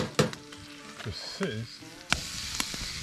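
Pancake batter sizzles in a brand-new frying pan with butter on a tent stove during an autumn canoe trip, soft frying hiss under scattered clinks of a utensil while people talk nearby.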